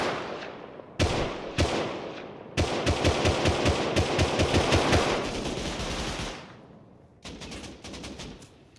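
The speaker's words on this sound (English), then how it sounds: "Oh, it's a SAR piece." Semi-automatic rifle fire in Rust on console: separate sharp shots, then a long, steady run of rapid close shots, then a pause and another quicker burst.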